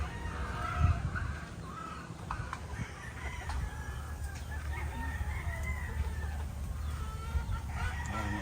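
Chickens cluck steadily at close range with scattered louder calls, a continuous farmyard chorus with no talking over it.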